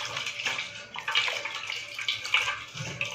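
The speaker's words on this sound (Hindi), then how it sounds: "हाथ पे पूरा साबुन लगाने के बाद वापस आपने उस पर पानी डालना है इस तरह" Water is poured steadily over soapy hands during handwashing, a soft continuous splashing with small surges and no voices.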